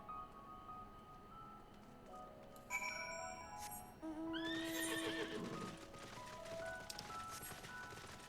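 A horse mount in the video game Final Fantasy XIV gives one clear neigh near the middle, rising over chiming game sounds and a soft musical background.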